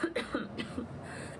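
A woman with a cold coughs several times in quick, soft bursts, close and quiet, alone with no talking.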